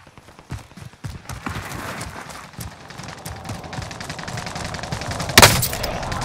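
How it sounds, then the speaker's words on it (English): In Call of Duty Modern Warfare (2019), scattered gunfire crackles in the distance, building into denser exchanges, with one sharp, loud close shot near the end. "Taking fire!"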